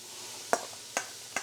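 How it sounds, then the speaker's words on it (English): Chopped yellow onion stirred in a hot pan with butter: a soft, low sizzle under three short, crisp scrape or tap sounds at roughly even intervals, close and fairly quiet. "I've got the pan hot. I've got some butter in there. I chopped up 1 yellow onion. Just gonna go in there."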